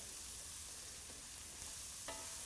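Onions and mushrooms are stirred and sautéed in a hot pan, a steady close sizzle with scraping stirs and one sharp utensil clack near the end, no voices.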